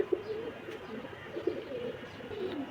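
Rampuri highflyer pigeons coo in soft, repeated low calls, a few distinct coos spaced across a steady background hum.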